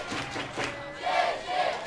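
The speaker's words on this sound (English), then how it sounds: "Cheshi, which is essentially a local crowd cheering on the home team" A home baseball crowd in a Czech Republic versus Japan game chants and cheers "Cheshi" for the Czech side, a rising roar of many voices heard at a distance.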